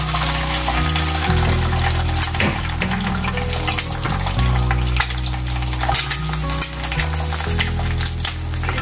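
Loud, steady sizzling and crackling of an egg frying in hot oil, continuous and close, with a low hum underneath.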